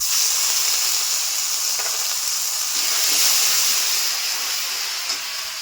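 Turmeric and ginger paste sizzle steadily in hot oil with cumin seeds, a loud, close, continuous hissing fry that holds even throughout without speech.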